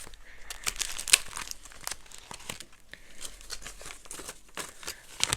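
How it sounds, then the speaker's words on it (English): Paper dollar bills rustle and crinkle as they are slid and pressed into an envelope, a steady run of close, dry crackles and soft scrapes. "let's get our dollars into our envelope in the back"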